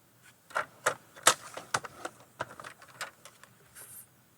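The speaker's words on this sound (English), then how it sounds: "we're going to score both of these, turning our paper" Paper being scored with a scoring tool on a board, giving a run of sharp, dry clicks and scrapes at an uneven rhythm, close and fairly quiet, with no talking.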